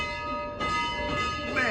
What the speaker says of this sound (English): Oh boy, but listen to that bell.